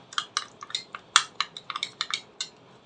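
A spoon stirs sugar into curd in a bowl, producing a quick, uneven run of light metallic clinks and taps against the rim and sides, close and distinct over a faint wet stirring sound.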